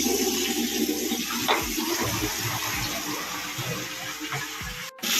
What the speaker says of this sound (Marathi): पण नळाला पाणी आलंय, ती पण 10 मिनिटात झाली